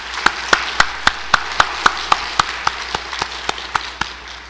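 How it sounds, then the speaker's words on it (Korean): A church congregation claps together in a steady rhythm, with about sixteen evenly spaced, sharp unison claps that soften slightly toward the end. "우리 하나님께 영광의 박수 한번 올려드리겠습니다."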